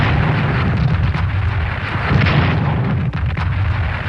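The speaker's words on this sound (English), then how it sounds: "The Japanese artillery here in northern China. 4 shots." Japanese artillery firing in northern China during a Strategic Command WW2 Pacific campaign game, heard as a continuous loud rumble of booming shots and blasts with no talk over it.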